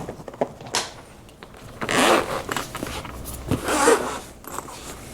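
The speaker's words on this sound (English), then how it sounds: "This is a double zipper." A double-zipper travel case for a mini drone is unzipped in two close, raspy zips with small handling rustles between them.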